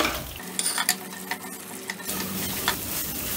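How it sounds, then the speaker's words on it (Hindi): Spices sauté gently in ghee over a very low flame, a soft sizzle broken by intermittent scraping and clinks of a spoon against the pan, close and without talk. "गैस को बिल्कुल सिम पे कर देंगे और मसाले को अच्छे से भूनेंगे"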